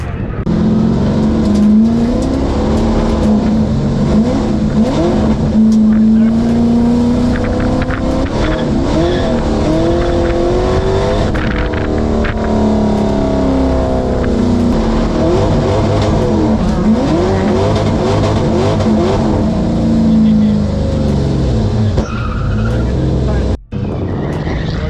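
An LS-powered Dale30 race car laps a track on Goodyear tires, its engine revving up and down through gear changes with brief tire squeal. The roar stays loud and close throughout, with voices talking faintly underneath.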